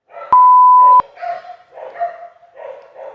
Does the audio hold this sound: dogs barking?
yes